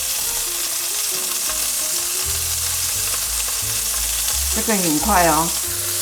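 Scallops pan-fry in a hot pan with a loud, steady sizzle that carries through the whole stretch, while a brief remark from a person sounds over it near the end.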